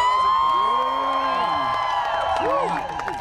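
A huge crowd of about 40,000 fans cheers and whoops at Angels Fan Fest, a loud steady roar with high shouts rising over it throughout.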